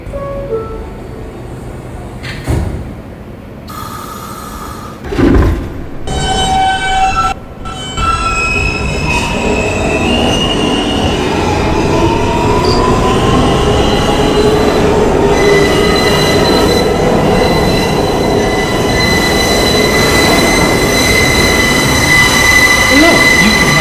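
A Queens-bound New York subway E train rolls along, starting with clanks and bursts of rail noise, then settling into a loud sustained rumble layered with high, drawn-out wheel squeals that grow stronger over the final stretch.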